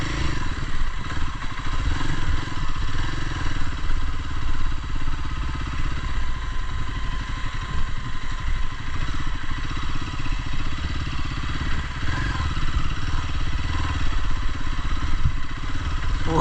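A motorcycle engine runs steadily while riding off-road over a rocky path near Bolumalai, a continuous close, loud drone with rattling clatter from the bumpy ground and no pauses.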